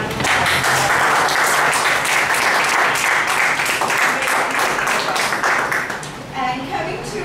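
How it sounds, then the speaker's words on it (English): An audience at a speech evaluation session gives a speaker a round of applause, dense sustained clapping that fades near the end as a voice begins. "So let's give Sal a great round of applause."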